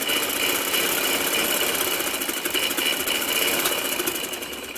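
A sewing machine runs a fast continuous stitch while sewing a double seam on a kurta, its loud, even whirring and rattle holding steady before easing slightly at the end.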